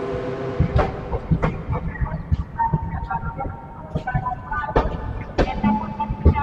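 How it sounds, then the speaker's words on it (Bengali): The Gitanjali Express rolls into Kharagpur station with rhythmic clattering of wheels over rail joints and rumbling carriages, heard from on board amid busy platform noise. "এই যে খড়গপুর ঢুকছে, ট্রেন ঢুকছে"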